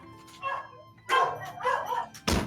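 A giant dog monster in a video game barks in loud, sharp bursts, several separate calls over a couple of seconds ending in a harsh final burst, with game sound in the background.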